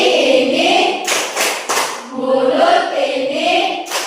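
A school class gives a rhythmic thank-you clap, with a few sharp bursts of hand claps falling between sung, chanted voices.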